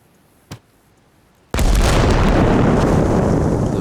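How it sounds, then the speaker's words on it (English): A small pop, then a vehicle in the video game Arma Reforger erupts in a sudden, massive explosion that roars on loudly as a dense, sustained rumble. "we're going to say that what happened was there was a massive explosion"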